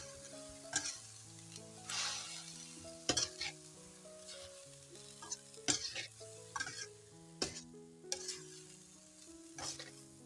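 Tomatoes seasoned with pepper are stirred in a frying pan, a soft sizzle with intermittent utensil scrapes and taps, quiet beneath louder background music.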